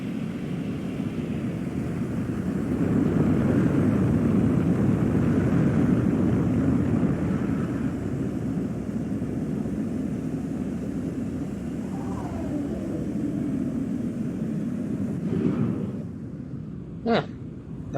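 A steady, loud airplane engine drones as the aircraft descends for a landing, with a broad continuous rumble that swells slightly and holds throughout, heard alone.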